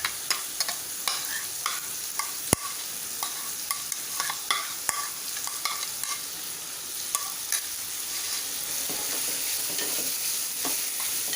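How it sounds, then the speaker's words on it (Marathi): Chopped onion sizzles steadily in hot oil flavoured with asafoetida in a pan, with frequent sharp clinks and scrapes of a spoon stirring through the continuous frying hiss. "आता आपण कांदा परतून घेऊया."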